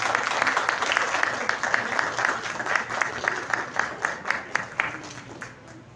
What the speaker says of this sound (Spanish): Un fuerte aplauso y un presente también.